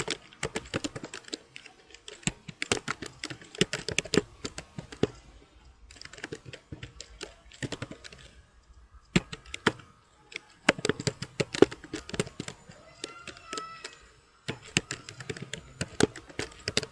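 Bursts of clicking computer-keyboard keys while a SQL injection query gets written, irregular clusters of taps separated by short silent gaps, close and fairly quiet, no speech.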